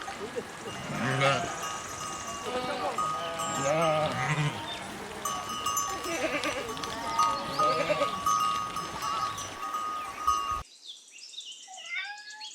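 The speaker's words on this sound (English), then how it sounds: "sheep" Sheep bleating amid a busy mix of other animal and bird calls, with wavering bleats recurring throughout at moderate volume before a brief chirpy bird-like passage at the end.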